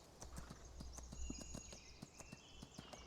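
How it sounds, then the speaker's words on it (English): Horse hooves clip-clop in a slow, steady walking rhythm in the farming game Farming Simulator 19, each step a crisp, close knock over a faint background hum. "the horses just want to walk slowly"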